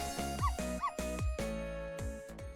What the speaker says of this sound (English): I barked. You bet I did.